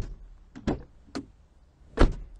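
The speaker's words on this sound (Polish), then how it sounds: "posłuchajmy tego, jak się otwierają i zamykają drzwi" Several sharp mechanical clunks and clicks of a 1989 BMW 524td car door being worked, ending with one solid, heavier thud as it shuts nearby.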